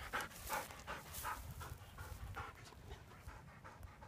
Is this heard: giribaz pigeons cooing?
no